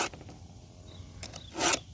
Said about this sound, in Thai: ก่อนที่จะไปตัดก็เดี๋ยวแต่งฟันเลื่อยก่อน